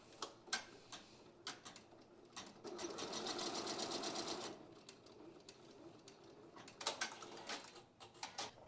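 An embroidery machine stitching a felt design, with quiet, close needle ticks and clicks before and after a steady burst of rapid mechanical stitching in the middle.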